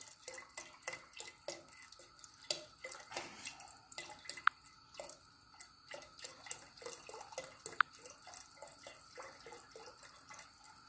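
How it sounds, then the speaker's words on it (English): Chicken broth is poured and sloshed into a cooking pot, a close, irregular run of splashes, trickles and drips that continues for about ten seconds with no talking. "I just pour enough broth to get it up to that first bolt there in the handle."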